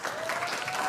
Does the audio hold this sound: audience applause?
yes